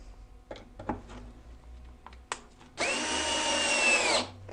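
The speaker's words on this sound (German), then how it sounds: "Dann setze ich dieses Brett hier rein, schraube es feste." Power drill driving a screw through a board into the floor of a bee hive: a few light handling knocks, then one loud, steady whirring run lasting over a second before cutting off.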